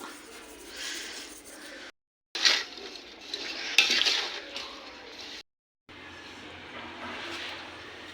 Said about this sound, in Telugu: ఇలా కలుపుకోవాలి స్పూన్తో